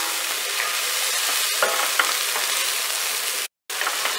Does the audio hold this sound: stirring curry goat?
yes